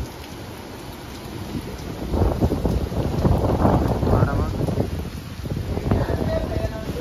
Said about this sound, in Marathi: असा वारा सुटलाय पाऊस पण आला